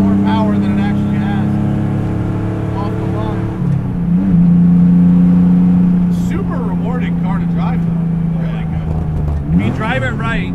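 A 1970 Porsche 911, raced in period and now rat-rodded, pulls hard under acceleration with a loud, steady engine drone that rises in pitch, while a person talks over it.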